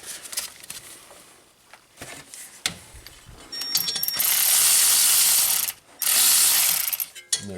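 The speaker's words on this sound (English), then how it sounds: "ratchet." A small hand ratchet clicks rapidly while tightening 8mm brake caliper bolts on a BMW. The clicks come close and loud in steady bursts, building into a dense, continuous ratcheting run with a brief pause.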